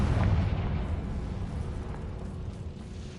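A Confringo blasting spell explodes in the video game Hogwarts Legacy, a deep, loud boom at the start that rumbles and slowly fades over a few seconds.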